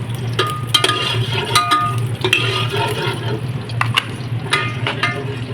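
Cinnamon, cloves, cardamom and green chillies fry in hot oil for a vegetable biryani while being stirred, giving a close, steady sizzle with scattered clinks and scrapes of the spoon against the pan.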